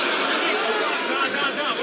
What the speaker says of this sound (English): you can certainly hear it in the emotion in the crowd here at Roland Garros